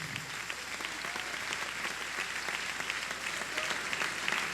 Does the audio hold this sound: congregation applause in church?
yes